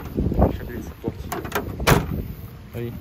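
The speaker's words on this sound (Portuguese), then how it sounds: "Deixa eu abrir essa porta." Door of a Fiat 147 car being opened at night in Itajaí, with a clunk of the latch and swing mixed with someone talking nearby.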